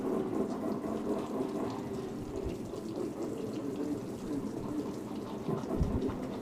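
Running water pours steadily from a tap, rinsing slime off a hydro-dipped skull, a continuous close splashing wash with occasional heavier splatters.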